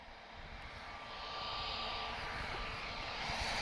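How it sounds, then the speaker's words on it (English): An Aer Lingus airliner taxis at Lisbon Airport, its jet engines a steady, fairly distant roar that grows slightly louder over a few seconds, with no talking. "And Aer Lingus is just taxiing towards us now."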